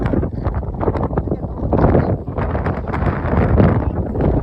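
Strong wind in rainy weather at the Gautameshwar Mahadev Temple in Sihor buffets the microphone with a loud, low, rumbling roar that surges and eases, and a voice speaks faintly underneath.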